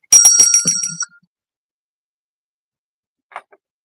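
A small bell rung once: a bright ringing strike with shimmering overtones that decays within a second, followed by silence and a faint click.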